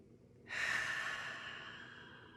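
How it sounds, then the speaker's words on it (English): A single deep breath, drawn in and released during a relaxing face yoga session, comes as one soft, airy, close rush that starts abruptly and slowly fades away, with no talking. "Let's take a deep breath in."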